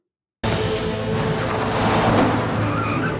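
Cars driving in a Doctor Who episode, an abrupt loud engine roar with tyre skid and squeal that starts sharply and sustains without a break.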